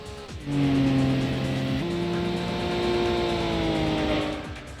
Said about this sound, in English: this Cerbera is using a 6-cylinder engine rather than a V8.